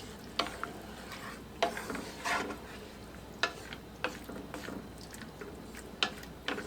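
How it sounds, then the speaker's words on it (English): Skillet beef macaroni is stirred in a pan in a quiet kitchen, a spoon scraping and clinking in separate bursts over a soft sizzle. "And I'll stir that in real good."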